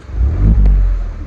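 A Honda Civic with a swapped H22 engine revs up close and loud, its deep roar swelling in the middle before holding steady, with no voices.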